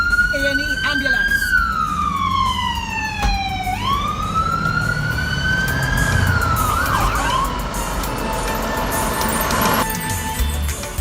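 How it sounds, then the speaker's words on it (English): An A&E ambulance siren wails loudly and continuously, its pitch sweeping steadily up and down in long rising and falling cycles. "And the siren is on. A&E ambulance."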